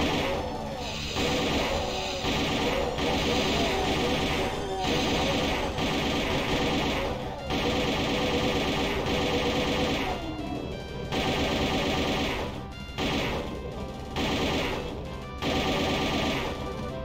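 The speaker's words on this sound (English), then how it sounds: "And there's a chain gun." A chain gun fires in a steampunk Doom megawad aboard an airship, with long, loud, dense bursts of rapid shots separated by brief gaps.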